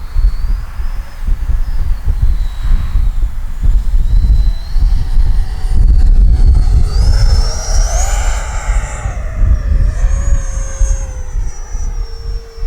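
An FMS Futura V3 80mm RC jet makes a low pass with gear and landing flaps down, its loud whine rising and sweeping past close by over a steady rushing rumble, with no talk.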